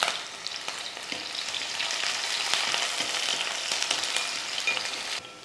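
Small shallots, garlic cloves and curry leaves crackle in hot oil for a Tamil fish curry, a dense continuous sizzle with sharp pops, close and fairly loud, fading slightly at the end.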